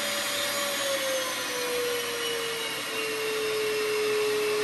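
A shop vacuum hooked to a DIY soda blaster cabinet runs in a steady, loud, continuous whine with a slowly shifting tone, and no voices.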